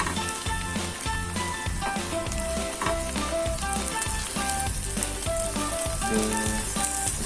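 A flipped omelette for an English breakfast sizzles loudly and steadily in a frying pan, with dense crackling and faint tonal clinks over the hiss, no talking.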